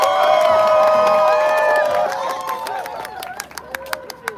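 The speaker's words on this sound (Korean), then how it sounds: "박수로 모시겠습니다." Rally crowd at a union resolution gathering cheers and shouts loudly, with whistles and scattered claps, the noise swelling at first and then thinning into sharper bursts near the end.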